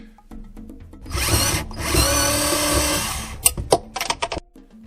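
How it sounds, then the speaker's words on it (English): A small, high-torque power screwdriver backing out screws while a bathroom faucet is removed: two close whirring bursts of motor, a brief pause between them, then a few sharp clicks and taps. "This is my go-to screwdriver for these projects."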